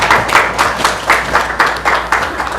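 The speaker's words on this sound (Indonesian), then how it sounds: "Jadi kita juga tepuk tangan dulu." An audience at a charity iftar event claps in a rhythmic, pulsing pattern, the beats rising and falling regularly and fairly loud, with no talk on top.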